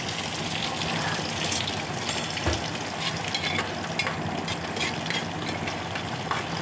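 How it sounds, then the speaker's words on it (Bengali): Onions frying in hot oil inside a pressure cooker, a steady close sizzle with faint crackles and occasional soft clinks, continuous and without speech. "এবার প্রেশার কুকারের গরম তেলের মধ্যে পেঁয়াজগুলো একে একে দিয়ে দেবো।"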